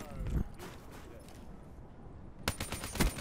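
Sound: gunfire in a video game

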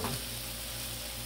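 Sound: pepper sizzling on a Blackstone griddle

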